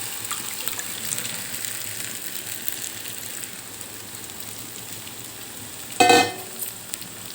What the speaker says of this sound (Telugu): ఇప్పుడు ఇందులో ఇందాక మనం కలిపెట్టుకున్నాం కదా మటన్ బ్లెడ్ పోసేసుకోవాలి